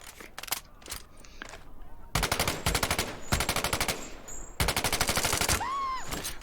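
Rapid automatic gunfire in the World War II shooter Medal of Honor: Above and Beyond, played in VR on a PC with a 980 Ti, firing in long bursts with tracers, sharp and close with brief gaps between volleys.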